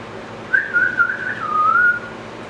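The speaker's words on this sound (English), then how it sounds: "And I whistled back." A single person whistles one short, wavering melodic phrase lasting about a second and a half, clear and close over a faint background hum.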